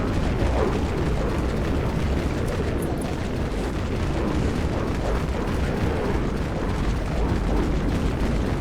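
X Dusk launcher explosions in the game Dead Frontier, a dense, continuous roar of heavy booming blasts with deep rumble throughout, loud and sustained.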